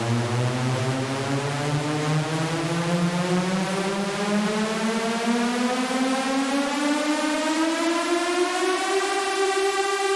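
A buzzy Serum synth riser, its pitch automated upward in Ableton, sweeps steadily upward for about ten seconds, like a rising siren, loud and continuous with no voices.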